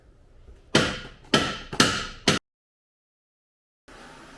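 Hammer blows strike a car ball joint as an angle kit goes onto a BMW E36: four loud, sharp metallic impacts at uneven intervals, then the recording drops to silence.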